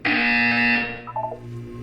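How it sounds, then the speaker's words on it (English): A buzzer in the video game Portal 2, a single loud harsh electronic buzz lasting under a second, followed by fainter short tonal blips. "You will hear a buzzer."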